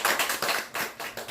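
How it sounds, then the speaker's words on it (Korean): A church congregation claps together at a Sunday worship service, a loud, close run of uneven slaps that comes in bursts and fades briefly between them. "여호와께 영광의 박수를 드립니다."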